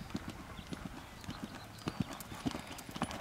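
Hoofbeats of a horse cantering in flatwork, a steady rolling three-beat clip-clop heard at moderate distance, with faint background noise.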